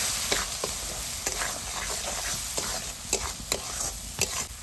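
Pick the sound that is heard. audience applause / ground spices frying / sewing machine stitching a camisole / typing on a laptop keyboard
ground spices frying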